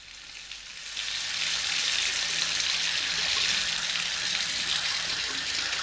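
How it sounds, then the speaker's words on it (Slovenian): Water gushes steadily from a tap, a dense hissing rush that starts after about a second and continues unbroken at close range, with no talking over it. "Jaz pa bom vodo spustil."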